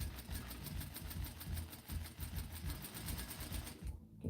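A sewing machine stitches a 5/8 inch seam on a jumpsuit, its motor churning in a fast, even pulsing rhythm up close, then stopping abruptly just before the end.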